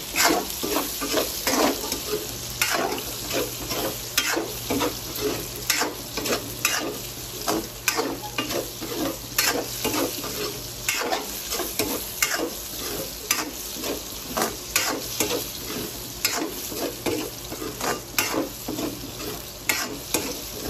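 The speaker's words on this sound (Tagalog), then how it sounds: "So, sunod agad natin yung bell pepper. Iprito din natin siya." Bell pepper fries in a hot pan for a shrimp curry, a steady sizzle broken by frequent rhythmic scraping strokes of a spatula stirring the pieces.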